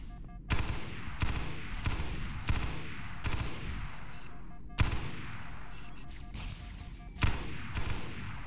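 Repeated sharp gunshots from a battle rifle in the shooter game Halo SPV3, fired in close bursts with a steady crackling din between shots and no voices.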